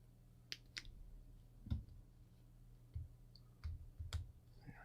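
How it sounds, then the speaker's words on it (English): Packing tape being peeled off a Star Wars Leia lightsaber box, heard as a handful of sharp, separate clicks and short tearing scrapes, close and fairly quiet. "Taking the tape off right now."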